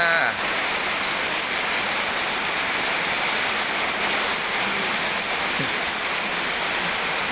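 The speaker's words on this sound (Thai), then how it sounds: "ลงมาฝนเทลงมา" Heavy rain pours down steadily at a flooded house, a dense unbroken hiss of water that holds loud and even throughout with no one talking.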